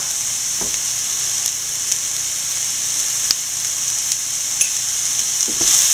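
Chopped bitter gourd stir-frying in a pan for a Kerala thoran gives a steady, close sizzle with occasional light clicks of stirring and no talk.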